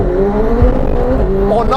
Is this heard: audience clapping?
no